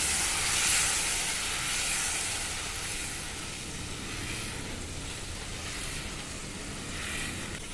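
Tomato paste hitting a hot pan for a bhindi-egg curry, giving a loud, continuous hissing sizzle that is strongest at the start and settles into a steady bubbling fry with no voices.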